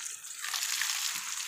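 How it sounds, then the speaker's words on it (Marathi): Water pours steadily onto a dry, sun-parched banana plant and its stem, making a bright, continuous splash and gush heard close up without voices. "आता अगदी भरपूर पाणी घालायचं."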